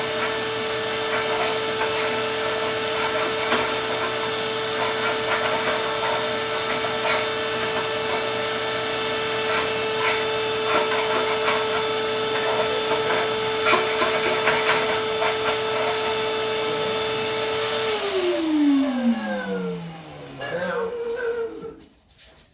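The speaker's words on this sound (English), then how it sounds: "hear it sucking up through the hose" A steady vacuum whine drones while loose debris rattles and clatters through a hose sucking out a 1972 Honda Twinstar 250 fuel tank, then the motor winds down and stops near the end.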